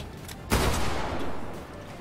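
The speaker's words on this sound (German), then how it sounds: "Achtung, ich höre Schüsse." Gunfire in the video game Fortnite: a sudden loud burst of shots partway through, over a noisy game background, with the sound staying rough and dense afterward.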